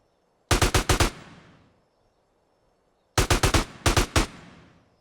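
Two rapid machine-gun bursts in GTA San Andreas, each of about four to five loud, sharp shots, separated by a short silent gap.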